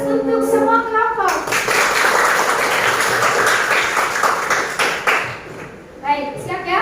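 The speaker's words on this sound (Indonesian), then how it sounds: "Aplaus untuk semua kelompok." A classroom group bursts into loud, sustained clapping and applause for all the groups, with children's voices mixed in and someone talking before and after.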